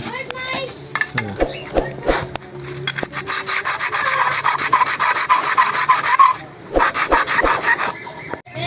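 A metal file rasps in quick, rhythmic strokes against a camholder shim from a Suzuki Raider motorcycle with a noisy engine head, close and loud, with brief pauses between runs of strokes.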